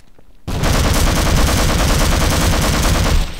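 Sustained automatic gunfire in Half-Life Source aimed at explosive barrels, a loud, rapid, unbroken stream of shots starting abruptly and lasting about three seconds before cutting off.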